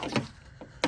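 Door lock clicks on a 1982 Camaro: two sharp mechanical clacks, one at the start and one near the end, with a fainter knock between them.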